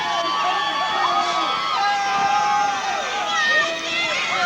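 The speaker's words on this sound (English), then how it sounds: "Fans, you hear the Bergenfield fans under us." Bergenfield football fans cheering and shouting from the stadium stands at a 1987 state semifinal high school game, a continuous loud crowd roar with a commentator talking over it.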